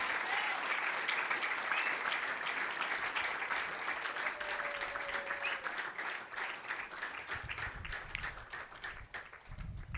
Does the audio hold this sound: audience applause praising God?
yes